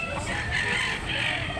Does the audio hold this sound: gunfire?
no